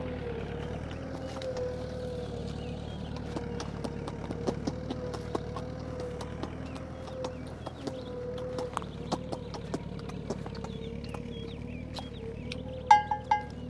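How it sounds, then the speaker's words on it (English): Donkey hooves clip-clopping at a steady walking pace while ploughing a farm plot, with faint scattered clicks and a low engine-like hum running underneath throughout. "Now approaching the donkey, Scania, that's the name."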